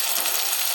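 Spices with Kashmiri chili powder and ginger paste frying and being stirred in a pan, giving a steady close sizzle without pauses.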